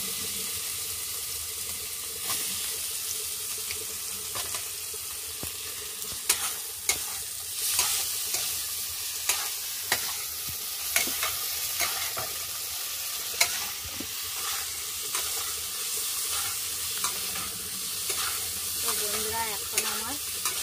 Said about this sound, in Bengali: এর মধ্যে আমি আলুগুলো দিয়ে অল্প কষিয়ে নিচ্ছি।